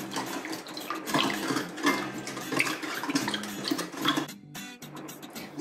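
Spiced Maharashtrian buttermilk (mattha) being churned with added cold water from a clay pot, giving continuous sloshing and splashing liquid sounds with irregular surges and brief pauses, close and moderately loud.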